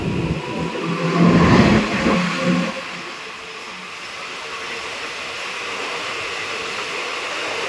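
A Ranaghat to Naihati local train running, a loud rumbling roar with clattering that swells in the first few seconds and then settles into a steady hissing drone.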